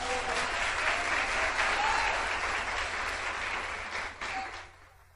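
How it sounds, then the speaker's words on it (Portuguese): A church congregation claps in a warm, sustained round of applause that fades out near the end, with a faint voice underneath. "Você pode aplaudir ao Senhor pela vida deles?"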